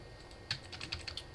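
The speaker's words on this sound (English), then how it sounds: "Type stuff." A computer keyboard clicked in a short burst of typing, several quick light keystrokes close by and fairly quiet, with no talking.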